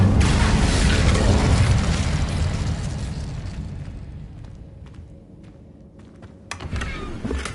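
A fire spell blast in the Hogwarts Legacy video game roars out as a loud, sustained whooshing burst that slowly fades, followed by a few sharp crackles and a fresh flare near the end.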